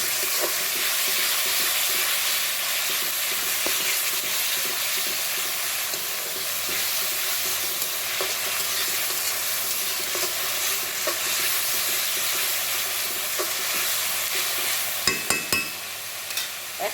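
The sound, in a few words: duck meat with ginger, garlic, bay leaf frying in oil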